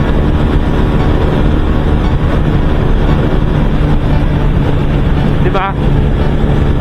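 A Rusi RKS 150 motorcycle engine at about 9,000 RPM gives a steady drone with road and wind rush throughout, continuous and loud, with a voice talking over it.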